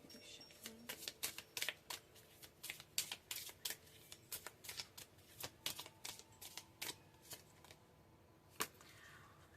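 Tarot cards being shuffled in a steady run of crisp, riffling bursts, close and fairly quiet, with no voices over them.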